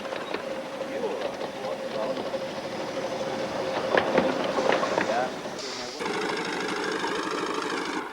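A miniature Hunslet 0-4-0 saddle tank steam locomotive runs on 7¼-inch gauge track at a 1994 gauge society gathering in Betws-y-Coed, making light rhythmic chuffing and clattering close by, with a voice talking over it.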